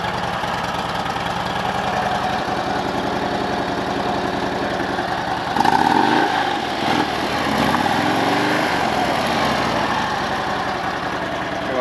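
A 2009 Harley-Davidson Road King FLHR sits idling close by, its engine a loud, steady, lumpy thump that shifts briefly midway before settling back into an even rumble.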